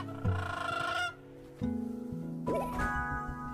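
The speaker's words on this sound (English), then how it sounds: "The player's bird sings to the wild creatures to charm them." A giant bird sings to charm wild creatures in the video game Flock, with loud tonal bird-like calls in several bursts, clear and close.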